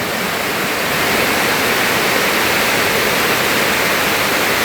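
Very heavy rain pours down steadily during a strong downpour, a loud, dense, continuous broadband roar like a waterfall that stays close and even throughout with no voices.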